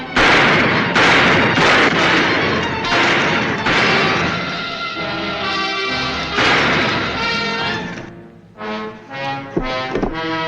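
Rapid volleys of gunfire in an old western television episode, loud bursts of repeated shots through the first eight seconds, then a few scattered sharper cracks near the end, with no talk over them.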